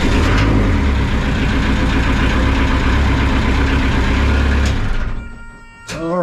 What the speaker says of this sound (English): Wow. Engine runs. Oh, that sounds awesome.